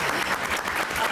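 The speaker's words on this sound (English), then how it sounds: "Can we get a round of applause for them?" A conference crowd claps together for a panel in a brief, dense burst of applause, steady and fairly close.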